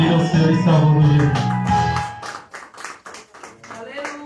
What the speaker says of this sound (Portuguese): Pode aplaudir o Senhor e Salvador Jesus